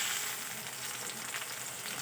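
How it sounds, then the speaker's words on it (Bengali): Chopped onion and tomato fry in a pan for a fish curry, giving a steady, close hiss of sizzling oil that holds even from start to finish with no voices. "পেঁয়াজ কুচিটাকে আমি একটু লাল লাল করে ভেজে নেব। এবারে দিয়ে দেবো টমেটো কুচি।"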